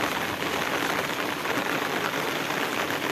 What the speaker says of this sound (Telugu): 5 నిమిషాల నుంచి వర్షం పడుతుంది మాకు.